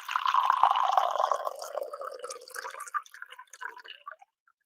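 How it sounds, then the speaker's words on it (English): Water poured for tea makes a steady, close liquid stream that gradually thins and breaks into scattered drips and trickles before falling silent, with no voices. "Did you hear the sound of pouring that water?"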